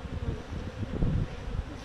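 Honeybees buzz around an open hive frame during a pollen flow, a low steady drone with fluctuating wingbeat hum, close and fairly faint, with no voices.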